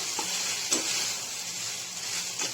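Sabudana khichdi is stirred in a pan, giving a few soft scraping strokes of a spoon over a gentle, steady sizzle, close and fairly quiet.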